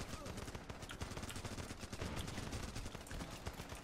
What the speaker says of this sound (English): Technically, the tank is shooting rocket-assisted rounds, apparently.